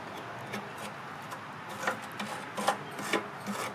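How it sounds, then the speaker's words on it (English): A brush scrubs dirt off a Briggs and Stratton plastic tank-mounted Pulsa Prime carburetor, giving close, soft, irregular rasping strokes that grow a little louder toward the end, with no talk. "So let's clean it with a brush, okay?"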